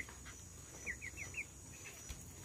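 Young chick in a backyard poultry setting giving a quick run of four soft cheeping clucks, faint against steady background hiss with no talk.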